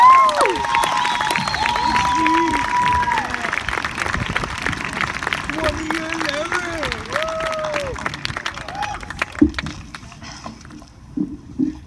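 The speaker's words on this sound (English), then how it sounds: "Stephen, I would like you to give him a round of applause" Graduation ceremony audience applauding a student speaker, broad clapping and some cheering that fades out toward the end, with voices and chatter mixed through the crowd noise.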